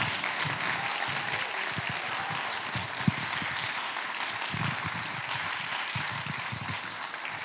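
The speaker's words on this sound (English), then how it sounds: "Let's keep the round of applause going for Dr. Kim, everybody" A live audience applauds Dr. Kim at a Sunday gathering, a steady, dense wash of clapping that runs unbroken for several seconds without fading.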